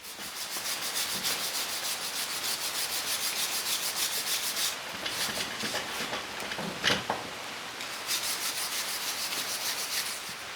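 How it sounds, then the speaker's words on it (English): A wire brush scrubs paint stripper off a cast anvil in close, steady rhythmic strokes that run throughout, broken by brief pauses and a sharper scrape near the middle. "Scrub it off with a wire brush"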